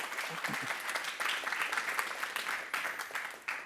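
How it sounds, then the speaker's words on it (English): An audience gives a round of applause to welcome a speaker onto a stage: dense, steady clapping from many hands that stays loud and even for the whole stretch, with no talk over it. "Please give me a round of applause"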